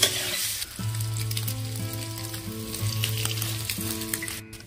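Eggs fry in oil with turmeric for an egg, potato and tomato curry, a steady close sizzle with occasional stirring, while a sustained tonal hum runs underneath through most of the sound and no one speaks.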